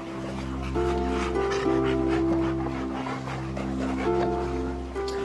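Several Labrador dogs pant steadily and whimper softly up close, with a tonal whine running over continuous breathy panting through the whole stretch.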